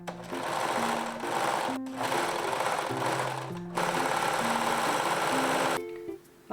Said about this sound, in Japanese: 前肩にロックミシンをかけます。